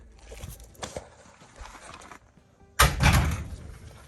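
Door of a 1967 Chevy G10 van with worn hinge pins, giving a few light metallic clunks and rattles before one loud, close slam-like thud near the end.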